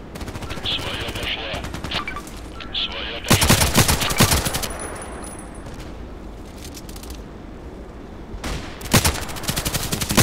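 Gunfire in the Contract Wars video game, with bursts of automatic shots and single cracks in short loud clusters over a steady background, and a voice talking between the volleys.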